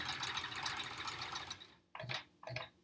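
A sewing machine stitches a quilt block, running steadily for about a second and a half, then stopping, followed by two short separate bursts of stitching close by.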